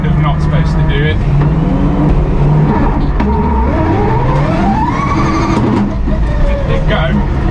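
A BMW E30 M3 fitted with a Drenth sequential gearbox revs hard and accelerates, engine pitch climbing steeply through a gear, loud and close, with people talking over it on an icy surface.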